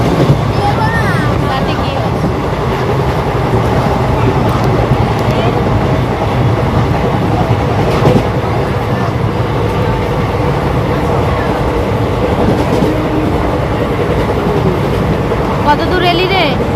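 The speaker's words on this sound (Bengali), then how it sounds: "এখানে এসে ট্রেন দাঁড়িয়েছে" The Tara Ma Express waits at Naihati Junction, a loud steady rumble of idling train and station bustle filling the whole stretch, with some brief clanks along the way.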